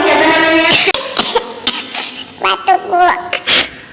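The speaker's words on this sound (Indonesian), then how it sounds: "Batuk, Bu." A child in a classroom coughs several times, short rough bursts in quick succession, close and fairly loud, with a brief spoken utterance just before.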